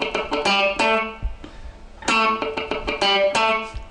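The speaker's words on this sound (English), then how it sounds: "the specific technique that I'm going to teach you today on the guitar is how to play dead notes or muted notes" Funk electric guitar riff played with muted dead-note clicks between pitched notes, a tight rhythmic pattern of sharp percussive scratches and short chord stabs, close and loud with a brief pause midway.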